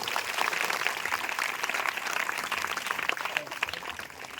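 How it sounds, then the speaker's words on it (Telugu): A church congregation gathered for a Christmas message in Gudipadu village claps loudly together, a dense, steady wash of applause filling the room for several seconds without pause. "గట్టిగా చప్పట్లు కొడదాం."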